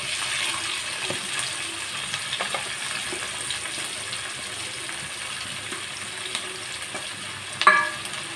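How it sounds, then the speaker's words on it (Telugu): Chopped onions and green chillies sizzle in a pan of oil with dried prawns, a soft, even frying hiss that runs unbroken, with one brief clatter near the end. "ఇప్పుడు మనం ఉల్లిపాయ పచ్చిమిరపకాయ వేస్తాము"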